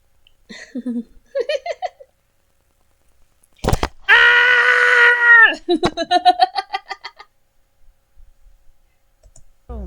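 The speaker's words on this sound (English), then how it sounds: "loud Tom scream sound." A loud cartoon scream effect of Tom the cat, a sustained strained wail lasting over a second, set among short bursts of voiced chatter and clicks before and after.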